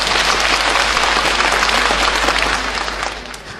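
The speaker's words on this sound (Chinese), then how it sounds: "让我们伸出热情的双手，让我们用掌声预祝今天的演唱会圆满成功" A large theater audience at a 2004 Yue opera anniversary concert in Shanghai bursts into dense, steady applause that holds loud and close for about three seconds before beginning to taper off.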